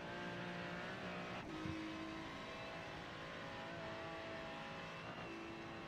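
A Ferrari race car engine in the iRacing sim drones steadily at high revs, with a couple of brief shifts in pitch and no talking, heard continuously and at moderate loudness throughout.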